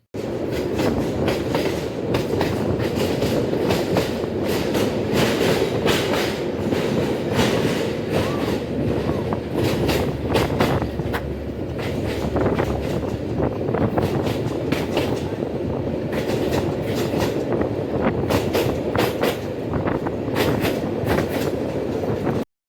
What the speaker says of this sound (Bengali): আমাদের ট্রেন প্রবেশ করল ময়মেসিং জেলার তার প্রথম স্টপেজ গফরগাঁও রেলওয়ে স্টেশন